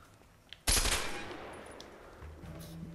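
A burst of M16 machine gun fire in the video game A Way Out erupts suddenly and loudly, then trails off into a sustained rumbling decay with faint background game sounds.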